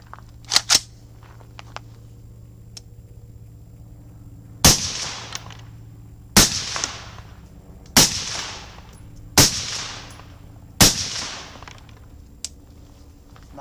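A suppressed SBR rifle fires at the range: two quick shots, a pause, then five sharp, fairly loud cracks about one and a half seconds apart, each trailing a short echo.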